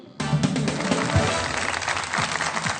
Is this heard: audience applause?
yes